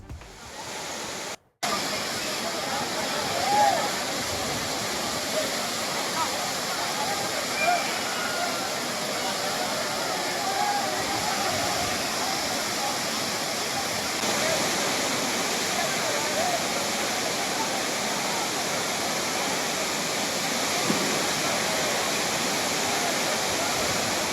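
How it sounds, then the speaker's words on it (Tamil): The Courtallam waterfall roars as bathing crowds stand under the falling water, a dense, unbroken rush of water that carries on steadily for the whole stretch after a brief dropout at the start. "ஆர்ப்பரித்து கொட்டும் அருவி நீரில் பொதுமக்கள் உற்சாக குளியல்"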